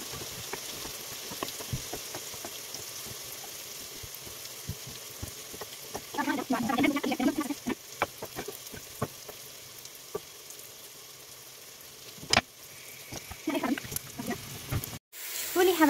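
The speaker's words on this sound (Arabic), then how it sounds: "اللحمة كيف عم تتقلى" Meat and onions frying in ghee in a pan for Levantine-style Indian kebab and rice, a steady soft sizzle running throughout with brief stirring and clatter in the middle, close and moderately loud.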